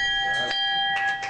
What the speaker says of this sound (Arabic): دق جرس بورصة تونس اليوم إذانا بالشروع في تداول أسهم شركة سيلكوم